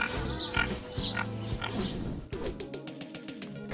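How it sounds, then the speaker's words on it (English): A pig grunts and oinks in short bursts, close and fairly loud, with a brief squeal near the end. "A little baby piggy wiggy?"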